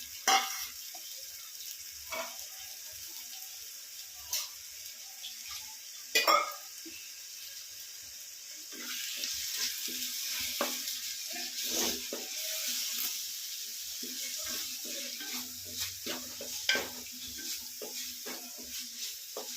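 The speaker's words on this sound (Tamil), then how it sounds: "அந்த தக்காளியும் இதில் நம்ம வதக்கிடணும்." Small tomatoes are sautéed in a pan for crab rasam. A faint, steady sizzle runs throughout, with scattered clicks and scrapes of a spoon against the pan and a slightly louder stretch midway. No one speaks.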